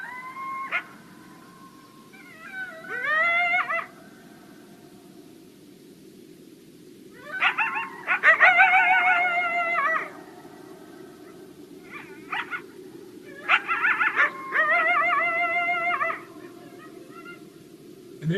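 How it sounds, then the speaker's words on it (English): Eastern coyotes in New Hampshire call in several bursts, with wavering howls, high yips and barks rising over a low steady background hum, at moderate distance. "there you actually heard multiple coyotes. You could hear some howls, some yips, and some barks."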